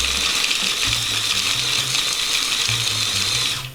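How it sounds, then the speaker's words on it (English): A small food machine grinds steadily through a big salad mix with dressing underneath, giving a continuous whirring, churning drone that runs loud and unbroken for a few seconds before cutting off. "we're gonna ask this little machine to chug its way through this big concoction here"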